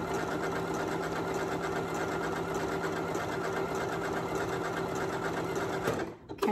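A Janome Memory Craft MC9450 sewing machine stitches an appliqué, running at a steady fast whir with a faint rhythmic chatter, close and continuous until it stops abruptly near the end.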